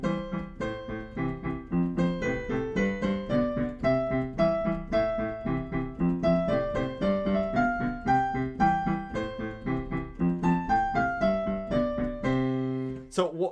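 On piano, a familiar piece is played straight rather than swung, with evenly spaced notes in a steady rhythmic pattern. It is loud and close and ends with a brief final chord.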